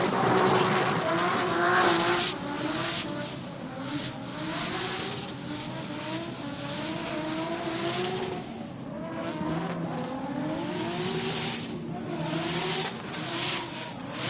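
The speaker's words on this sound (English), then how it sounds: "here comes Villain Heng, car number 30, on the limiter" A drift race car, number 30, screams along bouncing off its rev limiter during an NDS drift event, with stuttering, sustained engine wail and faint tire squeal mixed in, loud and continuous throughout.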